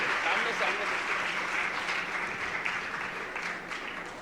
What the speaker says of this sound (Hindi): और आप सबकी जोरदार तालियां हम चाहेंगे मित्रों।